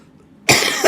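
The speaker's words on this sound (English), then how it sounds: "so you're going to hear me cough" A single sudden, loud cough bursts out close to the microphone after a moment of near silence.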